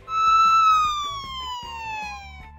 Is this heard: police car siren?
yes